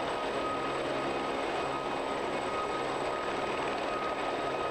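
Steady, loud roar of helicopter engines and rotor noise droning continuously as they advance across the field at a British airshow, with no talking.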